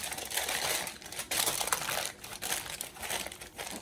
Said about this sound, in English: I'm gonna grab one more piece of foil.